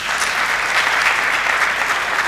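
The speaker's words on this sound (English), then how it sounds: "They deserve a round applause," Loud audience applause for the teams at a national moot court competition final, a close, dense burst of many hands clapping without a break.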